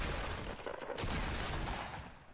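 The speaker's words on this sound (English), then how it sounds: "We both exchange a little bit of shots and come out with a nice shot right there." Rapid gunfire trades back and forth in a Fortnite battle, with dense overlapping shots crackling in loud bursts that fade slightly toward the end.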